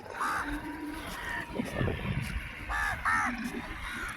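Crows caw several times near a shoreline where fish are being cut, harsh calls in short bursts, some close and some farther off, over a rough background rumble.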